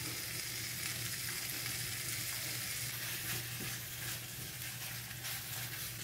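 Shrimp sizzle steadily in a hot pan, a continuous crackling fry with faint stirring, close and alone without any voices.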